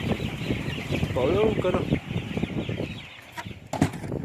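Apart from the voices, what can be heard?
chickens clucking on a chicken farm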